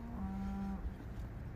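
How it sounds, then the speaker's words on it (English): A cow moos once, briefly and faintly, in the distance at a commercial carp fishery. The moo sits over steady outdoor background noise. "The cow's going off in the background"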